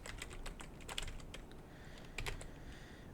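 Keystrokes on a computer keyboard while entering code, a steady run of light clicks with a few louder taps, close and alone without talk.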